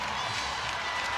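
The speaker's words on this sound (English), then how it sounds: "Crowd rising to its feet." A basketball arena crowd at a WNBA game, Dallas Wings against Indiana Fever, roars and cheers as it rises to its feet, a dense, sustained wash of crowd noise and clapping from all around.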